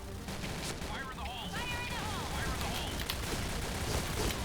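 Dense automatic gunfire from a TAR21 rifle in the Point Blank shooter game, with rapid cracking shots running steadily throughout and thin whistling tones over a busy, loud mix.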